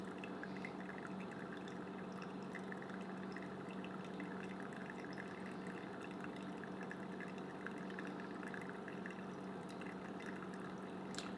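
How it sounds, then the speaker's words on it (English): A quiet, steady trickle of water poured from a Brewista gooseneck stovetop kettle, continuous and soft, with faint drips throughout and no voices. "I'll keep on pouring the rest of the water"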